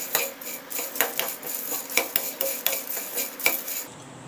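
Small whole cloves rattle and clink into a metal pan while garam masala is made, with a series of sharp, irregular ticks and scrapes close by, no talking.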